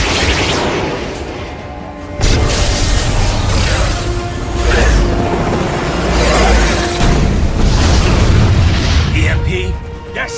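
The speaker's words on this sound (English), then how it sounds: "Missiles incoming!" Incoming missile explosions in the Metal Gear Rising: Revengeance video game, loud booming blasts that keep rolling for several seconds over a dense wash of game noise and music.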